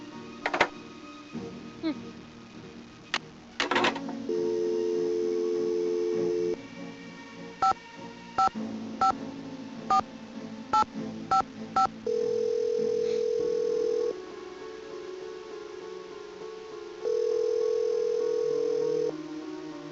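In the Nancy Drew game Secrets Can Kill, an old telephone plays a steady dial tone, then a string of short dialing beeps and clicks, with further stretches of tone; clear, close and alone.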